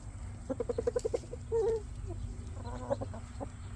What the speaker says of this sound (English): this is my rooster, and I have eggs hatching